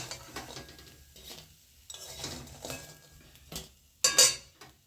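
Drumstick-flower (sajna) fritters are lifted out of a frying pan, with soft clinks and scrapes of a utensil against the pan, a faint sizzle underneath and a sharper metallic clatter near the end.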